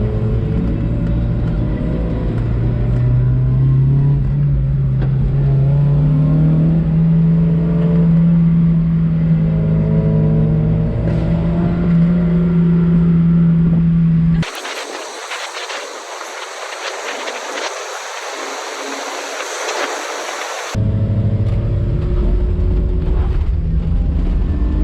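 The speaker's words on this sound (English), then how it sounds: "Why does mine backfire differently than your guys'?" Cars driving the Tail of the Dragon mountain road in North Carolina in the rain, a loud, close engine droning and climbing in pitch, cut by a burst of harsh wind and road roar before the steady engine hum returns.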